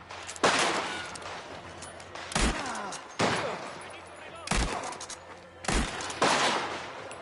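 Gunfire in Mafia: The Old Country during a shootout, with about five loud, sharp bursts of shots spaced roughly a second apart, each trailing off into echoing rumble.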